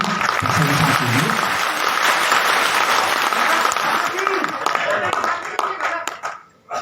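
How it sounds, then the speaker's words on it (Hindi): An audience at a Hindi poetry recital in Bhopal bursts into loud, dense clapping for a poet from Lucknow, sustained for several seconds before thinning and fading out at the end. "आशीर्वाद की तालियां दीजिए, प्रशंसा कीजिए।"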